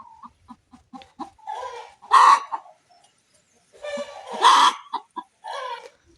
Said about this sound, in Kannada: ಕೋಳಿ ಕೂಗ್ತು ನೋಡಿ